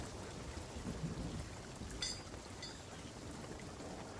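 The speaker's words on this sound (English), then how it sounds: "We're in the middle of a storm already" Thunderstorm with rain in a pirate sailing video game, a faint, steady wash of falling rain and low rumble, with a brief brighter splash or crack in the middle.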